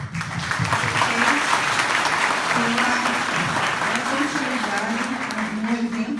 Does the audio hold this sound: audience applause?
yes